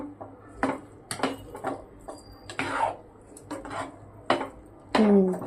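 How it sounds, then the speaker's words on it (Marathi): A spoon scraping and knocking against a pot while dal khichdi is stirred, a run of close, irregular clinks and scrapes with short pauses between strokes. "परत एक वेळेस त्याला छान आपण हलवून घेऊया"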